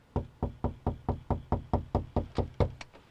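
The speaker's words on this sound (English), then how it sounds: "We then went and knocked on Martin's door." About a dozen firm knocks on a house door, evenly spaced and close, sounding in a steady rhythm with nothing else heard.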